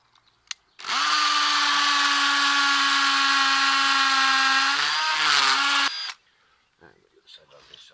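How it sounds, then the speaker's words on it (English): A masonry hammer drill bores a hole into a wall for wall plugs, a loud, steady high-pitched whine with hammering that runs about five seconds, changes pitch briefly near the end, then stops abruptly. "Now we'll take the masonry drill, make the hole ready to receive the wall plugs."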